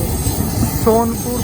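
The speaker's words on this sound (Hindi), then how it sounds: "सोनपुर पटना मेमू है शायद।" A Sonpur–Patna MEMU train running nearby, its steady rail rumble joined by a short tonal squeal of wheels partway through, with a voice briefly audible.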